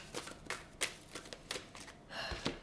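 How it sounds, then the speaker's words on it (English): An oracle card deck shuffled close up, a series of quick soft riffles and taps in an uneven rhythm, faint and alone. "Let me just shuffle the cards"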